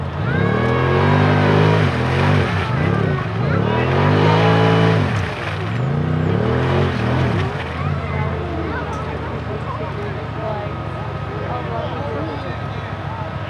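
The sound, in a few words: side-by-side UTV engine running through mud bog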